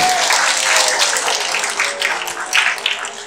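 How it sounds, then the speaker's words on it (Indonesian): An audience in a prison hall claps for a doctor after a kidney health talk, a brisk, fairly close burst of many hands that swells and then gradually thins out over a few seconds. "Kita beri aplaus untuk Dr."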